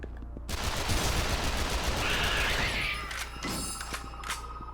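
Sustained automatic gunfire in the video game Yakuza: Dead Souls, a loud continuous rattle of rapid shots that thins out toward the end into scattered bursts.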